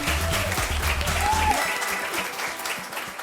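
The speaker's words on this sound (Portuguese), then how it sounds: "palmas" Audience applause at a Brazilian women's panel event honoring a participant, steady dense clapping filling the room throughout, with a low murmur underneath early on.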